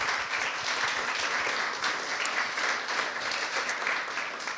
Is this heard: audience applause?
yes